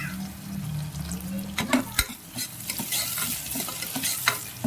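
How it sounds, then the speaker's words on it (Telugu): Onions and curry leaves frying in a pan, steady close sizzling with repeated stirring clicks and scrapes of a utensil against the pan, no voices. "కలిపి ఉల్లిపాయల్ని కాసేపు వేయించుకోవాలి"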